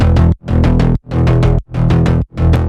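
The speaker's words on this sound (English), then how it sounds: "so I ended up doing Analog Glide bass and the classic pop bass." Two layered synth basses, an analog glide bass and a classic pop bass, play together for a synthwave track, in five loud chopped bursts with short gaps between them and no talking.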